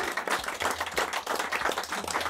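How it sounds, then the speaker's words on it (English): A crowd claps and applauds steadily for a women's team, the dense patter of hands moderately loud and continuous throughout. "Big cheer for them, please."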